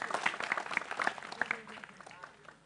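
A brief, modest round of applause for a participant at an Indonesian gathering, several hands clapping unevenly for a couple of seconds before fading, with a voice faintly under it.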